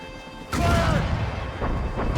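Ship cannons fire in Assassin's Creed Rogue during a naval battle, one heavy booming blast that jumps in loudly, then a rumbling, crashing tail with further thuds over steady background music.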